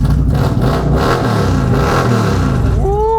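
Custom bagger motorcycle engine rumbling and revving steadily up close, a loud continuous low roar that holds throughout with a brief rising tone near the end.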